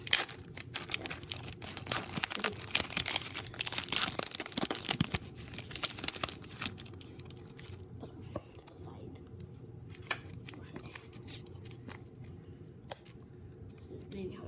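A Pokemon Sun and Moon card pack wrapper crinkles and tears close up, loudest at first and then easing into lighter rustling and handling, with soft talking underneath.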